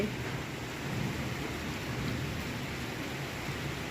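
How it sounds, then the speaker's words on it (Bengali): Heavy rain pours down in a steady, dense roar with a low rumble of thunder underneath during an afternoon thunderstorm; no voices. "দেখছো কীরকম ঝড় বৃষ্টি হচ্ছে"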